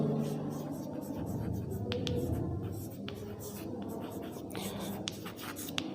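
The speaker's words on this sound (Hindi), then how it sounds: "तो हम यहाँ पे लुईस सिंबल लिख लेते हैं।" Marker or chalk writing Lewis symbols on a board during a chemistry lesson, with repeated short scratchy strokes under steady, soft talk from a teacher.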